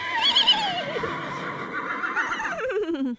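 A person imitates a horse whinny, a loud close vocal neigh with a wavering, falling pitch lasting about three seconds, performed alone without other talk.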